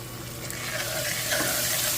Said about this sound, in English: I'm adding 2 cups of my vodka